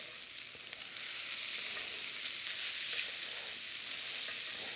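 A pork loin basted with herbs and garlic fries in a pan, giving a steady, close, loud sizzle and crackle with faint stirring or basting movements and no talk.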